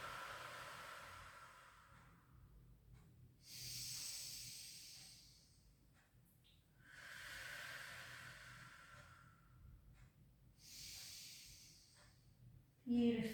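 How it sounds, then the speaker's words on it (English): Slow, deep breaths in and out during a gentle Pilates mobility stretch, each long airy inhale and exhale close and soft, about four full breath cycles with quiet pauses between. "Big breaths in and out."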